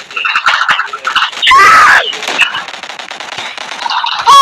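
Rapid bursts of gunfire from a shooting video game, sharp cracks and clattering shots crowded together, loud and close, with excited voices talking and shouting over the action.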